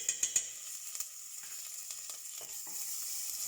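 Curry leaves and green chili hit hot oil for a tomato curry, setting off a bright, steady sizzle with a few sharp pops and crackles at the start, close and loud, with no talking.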